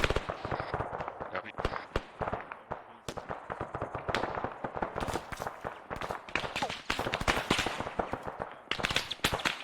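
Mortar shells bursting in ARMA 3 during a platoon training session, with a rapid string of sharp explosive cracks and thuds, some near and loud, others farther off, overlapping and continuing without pause.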